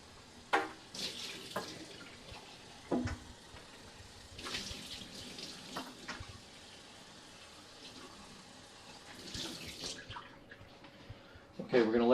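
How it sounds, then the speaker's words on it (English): Parts of a BEAR 2024 baby food maker rinsed under a running kitchen tap, the water splashing in several separate bursts over a low steady background, with some talking. "you can clean and rinse this out"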